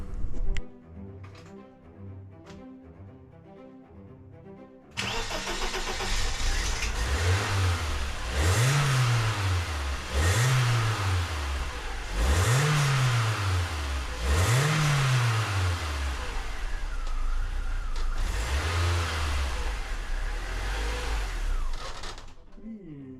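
A BMW Z3 engine, under restoration with a suspected MAF sensor fault, starts after a few seconds of quiet and runs loud and close, revving in four or five swelling pulses and then settling into a rough, uneven idle.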